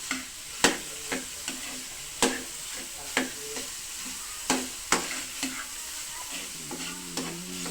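A spoon stirs laing, dried taro leaves cooking in coconut milk. It scrapes and taps the pot in a steady rhythm of sharp knocks over a soft sizzle, with no voices.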